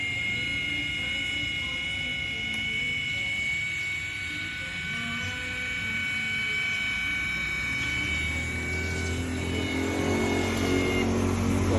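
The electric motor of a WILD LAND PathFinder II rooftop tent on a Toyota Fortuner Legender whirs continuously with a tonal whine, a low rumble building toward the end.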